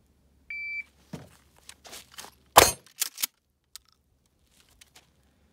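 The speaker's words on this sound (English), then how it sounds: "I'm going to hit the green button on the beep." A single short shot-timer beep sounds, followed by handling clatter and a loud, sharp shotgun blast firing 00 buckshot.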